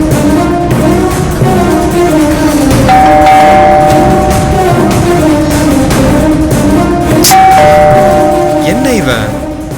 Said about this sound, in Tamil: விடாம காலிங் பெல் அடிச்சுட்டே இருக்கான்